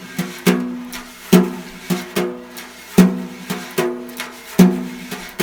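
A drum set played with brushes keeps a steady, swinging jazz beat with regular accented hits and softer strokes between, close and loud, without any voices.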